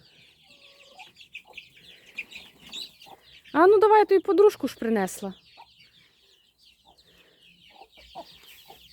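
A hen carried to a young rooster for mating sets off a loud burst of squawking and clucking midway, with faint clucks before and after and someone talking nearby.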